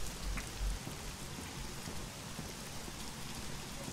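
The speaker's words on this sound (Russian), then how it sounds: "Дождик, прям как у нас на улице, серьезно" Steady rain falls throughout a scene in the horror video game The Medium, a dense continuous hiss of drops on surfaces with a faint low rumble underneath, no voices.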